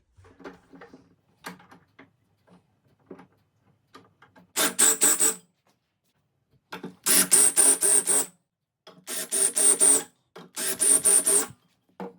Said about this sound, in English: what we're going to do is countersink these holes